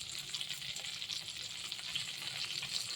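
Fried brinjal pieces sizzle steadily in a pan with salt and turmeric, hissing loud and close, with soft scraping as they are stirred.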